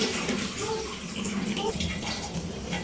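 Water runs and splashes steadily into a tub as clothes are soaked for washing, a continuous close gushing with some faint background movement and no clear speech.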